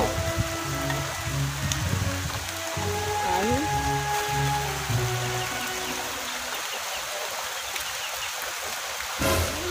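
Steady rain falls outdoors in a rural Sundanese village, a continuous dense hiss throughout with faint background sounds and a brief louder burst at the end.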